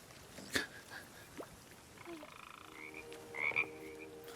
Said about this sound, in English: Oh my god, it is a one-eyed frog.